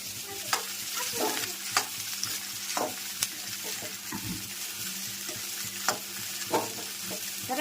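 A Gujarati tempering (vaghar) for maize chevdo sizzles in hot oil while a spoon stirs and scrapes the pan, giving a steady crackling hiss broken by several sharp clinks and scrapes, close up and without talk.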